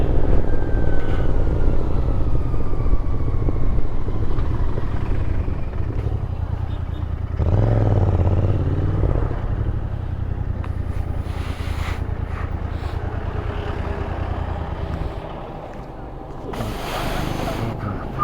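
A motorcycle with a suspected tyre-air problem being ridden on the road from Tura, Meghalaya toward Bagdogra: constant heavy wind buffeting and a low engine rumble that carry on throughout and ease off briefly near the end.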